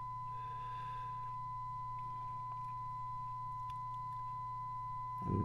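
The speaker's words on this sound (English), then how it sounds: "sawtooth wave, sine wave." A FNIRSI 2C53P signal generator puts out a steady sine tone, a pure, unbroken hum held at an even level, with a low background buzz and no talking.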